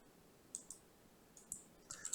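Faint, crisp mouse clicks as the browser back button is pressed, a few isolated light clicks separated by quiet gaps.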